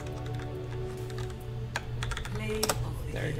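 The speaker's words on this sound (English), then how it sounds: "to type, you just hit enter" Quiet keystrokes patter on a Roccat Sova lapboard keyboard during an Overwatch session, a dense run of taps with a few sharper clicks near the end, beneath faint background voices.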